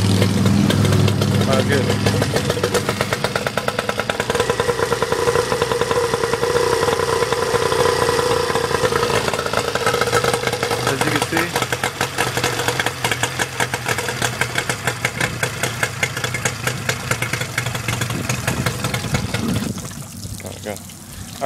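A Tohatsu 15hp short-shaft tiller outboard engine runs after a pull start, a steady rapid two-stroke putter mixed with water trickle that holds for most of the stretch before tapering near the end, with someone speaking briefly.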